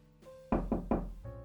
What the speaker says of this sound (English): A knock on the door took him out of his thoughts.